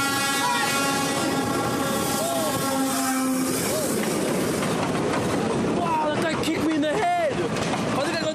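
A train driver sounds the horn in a long steady blast over the rumble and rattle of the rail cars, with a voice talking over the scene.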